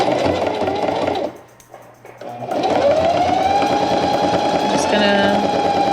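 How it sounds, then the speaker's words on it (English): A sewing machine runs steadily up close while stitching the side seam of denim shorts cut from old jeans. The motor whirs loudly, pauses briefly, then resumes a continuous stitching hum. "let me go ahead and sew my side seam here to keep my cuff in place"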